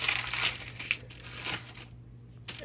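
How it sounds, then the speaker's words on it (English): A sheet of parchment paper crinkles as finished apple fruit leather is laid onto it, giving close rustling bursts that fade into a short quiet gap before one last crackle. "we can put it on a sheet of parchment"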